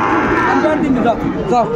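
Cattle at a market for Friesian and crossbred bull calves, with a cow's low moo rising over busy crowd chatter and a nearby voice talking.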